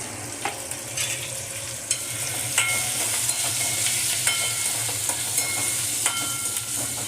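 Onions frying with curry leaves and turmeric in a pan, a continuous close sizzle broken by scattered clicks and scrapes of stirring, with no talking.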